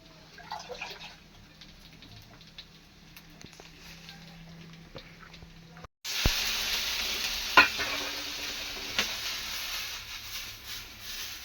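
Rice-flour ghavane batter poured onto a hot iron griddle; after a quiet stretch of faint kitchen noise, a loud, steady sizzle and crackle starts suddenly and continues close up to the end.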